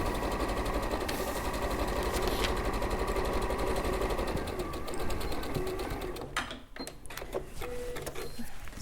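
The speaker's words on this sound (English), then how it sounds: "I've zigzag stitched all the way down from the top of the skirt to the bottom" A sewing machine runs a continuous zigzag stitch down the seam of a stretch jersey skirt, whirring steadily for several seconds before slowing and stopping near the end.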